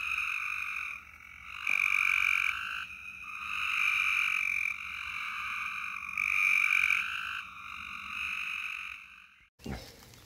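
Continuous croaking from many rain frogs on a summer night, rising and falling in waves over several seconds, ending with a brief bump of handling noise.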